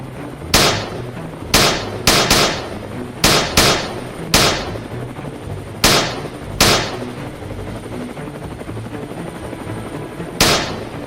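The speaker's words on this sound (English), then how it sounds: "I squeezed the trigger, firing the moment I had a shot" Gunfire from a helicopter aimed at wild hogs in Texas: nine or so sharp, loud shots in irregular clusters, each with a brief echoing tail, over a steady rotor drone.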